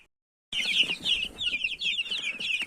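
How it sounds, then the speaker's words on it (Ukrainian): Chickens and chicks in a box keep up a close, steady run of high peeping and soft clucking that starts abruptly after a short silence. "А тут дивіться, які сидять у мене вже курчатка."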